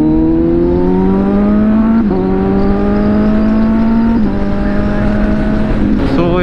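Superbikes ride a winding ghat road on the way up one of Odisha's highest peaks, their engines droning loudly and steadily up close, pitch climbing through the gears with shifts about every two seconds, without let-up.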